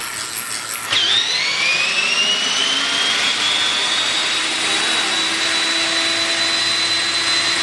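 Motor on a homemade inertial dyno with a one-way clutch, winding up after a sharp start into a loud, steady high whine that climbs in pitch and then holds, close by.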